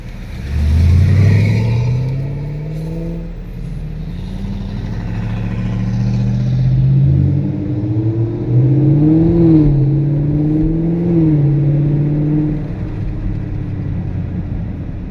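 A stock automatic 2016-2019 Chevrolet Camaro SS launches hard on launch control with warm tires. The engine holds high revs, then roars up through rising sweeps as it accelerates, loud and close, with no talking.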